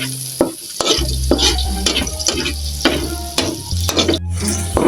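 Garlic, onion and chili sauté in a pan for a home-cooked dish, a close sizzle broken by frequent clattering stirs and scrapes of a utensil against the pan, with a low hum underneath.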